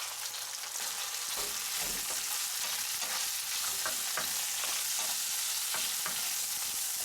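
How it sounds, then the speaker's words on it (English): Shrimp frying with garlic in oil in a hot pot gives a dense, steady sizzle, with frequent scraping stir strokes throughout and no voices. "Then add the shrimp and fry."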